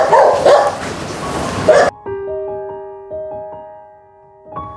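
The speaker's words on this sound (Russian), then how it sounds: "Собаки там есть." Dogs barking in bursts at a family homecoming in Tashkent, loud and close over a noisy first stretch, then a few further yips against quieter background tones.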